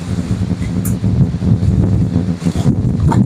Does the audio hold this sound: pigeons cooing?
no